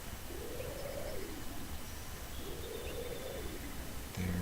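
Birds coo in the Second Life virtual world: two slow, rising-and-falling calls repeat over a steady hissing ambient bed, moderately close, with no talking over them.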